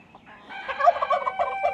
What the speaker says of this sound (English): Loki, that's a hen.